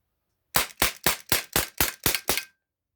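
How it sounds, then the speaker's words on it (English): A Gamo PT85 CO2 air pistol fires eight rapid shots in an even rhythm, each a sharp, close pop and all within about two seconds, with silence before and after. "Do a little bit of rapid fire now."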